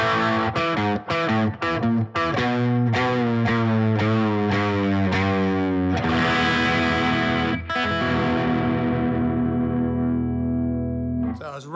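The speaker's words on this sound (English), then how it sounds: "Here's the bridge pickup with some crunch." Gibson Custom Shop Historic SG '61 Standard electric guitar with a Korina body, played through the bridge pickup with crunch distortion: a run of quick picked notes, then sustained ringing chords, loud and alone.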